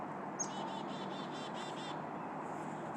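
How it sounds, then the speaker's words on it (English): Birds chirp outdoors on an early winter morning, a series of rapid repeated tweets for about a second and a half, then a fainter call, over a steady background rumble. "Let these birds start moving in."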